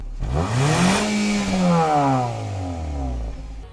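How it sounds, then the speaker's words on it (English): 2018 Nissan Sentra SR Midnight Edition with a chrome-tipped exhaust and a 124-horsepower engine, giving one loud, close rev that climbs sharply, holds, then slowly winds back down to idle. "a chrome-tipped exhaust that sounds well-tuned for only 124 horsepower"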